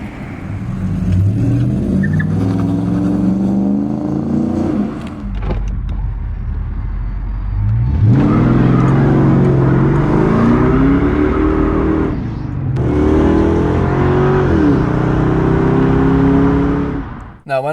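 A Hemi Ram truck and a Mustang pull away from a car show at the Ace Cafe with loud, close engine roar, rising revs and gear changes sweeping up in pitch through repeated bursts of acceleration.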